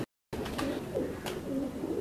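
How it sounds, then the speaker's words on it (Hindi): Pigeons cooing on a rooftop in Kasur, with soft, repeated low coos close by over light background noise after a brief silence at the start. "बहुत अच्छे कबूतर ने जी।"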